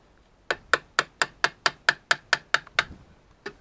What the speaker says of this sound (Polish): Młoteczek.